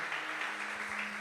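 A church congregation applauds during a sermon, giving a soft, even wash of clapping that sounds somewhat distant, with a steady low hum running underneath.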